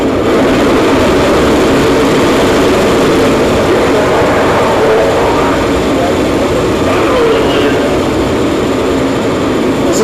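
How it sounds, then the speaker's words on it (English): Space Shuttle Atlantis lifting off on a mission to the International Space Station, a loud, continuous roaring rumble that holds steady and dense without a break. "Lift off of Space Shuttle Atlantis."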